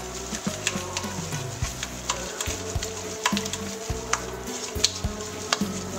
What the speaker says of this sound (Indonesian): Kita aduk bersatu telur sama ragi